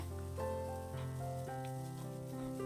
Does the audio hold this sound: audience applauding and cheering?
no